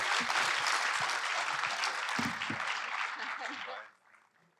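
Audience applause for two women at the ATKV-Kultuurkuier 2025 cultural gathering: dense, sustained clapping from a full room, steady and loud for nearly four seconds before quickly dying away, with faint voices beneath.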